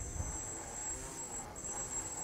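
Small electric motor of an RC fixed-wing FPV plane throttling up, a faint high steady whine holding over low rumbling background.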